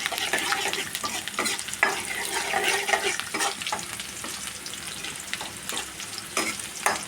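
Garlic sizzles in a pan for a ginger curry, with a constant close frying hiss broken by intermittent scraping stirs.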